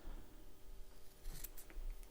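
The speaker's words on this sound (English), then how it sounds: "So I'm going to start my scissors at that 1 inch line and angle it to the center mark." Scissors make one quick angled cut through a triangle piece for a Guardian backpack, a faint, brief snip with soft blade clicks in a quiet room.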